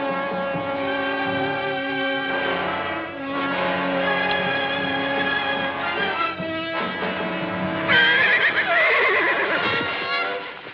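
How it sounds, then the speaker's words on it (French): A horse neighs loudly in an old 1950s Western film, its whinny rising over a dense orchestral music score and growing shrill and wavering near the end. "Ça, bon cheval, très gras."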